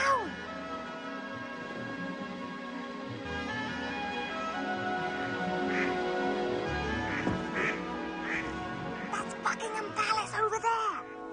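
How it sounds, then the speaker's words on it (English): Ducks quack repeatedly in a park setting, with several overlapping calls growing busier and louder toward the end, under a steady outdoor background and some talk. "I is hearing ducks quackling down below."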